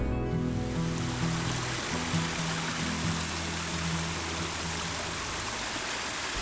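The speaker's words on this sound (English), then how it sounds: "Water is a major factor in a Japanese garden. We have meandering streams, plunging waterfalls, ponds." Water streams steadily through a Japanese garden of meandering streams, waterfalls and ponds, a broad continuous rush heard alone with a low tonal hum beneath.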